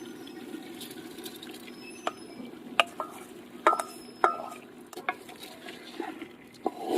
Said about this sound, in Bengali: আবার হাঁড়িটা বসিয়ে দিয়েছি, ভাজা চালটা এবার দিয়ে দেব।